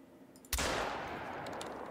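A single loud shotgun blast fired at a pheasant in the hunting game The Hunter: Call of the Wild at Rancho del Arroyo, a sharp crack followed by a long rolling echo, with no talk.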